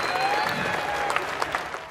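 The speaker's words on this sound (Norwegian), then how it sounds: "Her er applaus." Audience applauding at a live hypnosis stage show, a brief burst of many hands clapping steadily with a few sharper claps standing out near the end.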